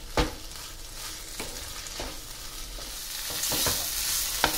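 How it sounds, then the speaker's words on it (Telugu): Kasi halwa with ghee being stirred in a pan as it thickens, repeated scraping strokes of a spoon over a soft sizzle, close and moderately loud, with the stirring quickening toward the end and no talking. "ఇది ఇంకొద్దిగా గట్టిపడే వరకు మనం ఇలా కలుపుకుంటూ ఉండాలి."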